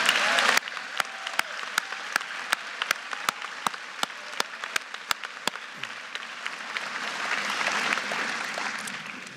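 Applause at a high school graduation ceremony: single slow claps repeat in a steady rhythm at first, then a fuller wash of clapping from the audience swells and builds toward the end.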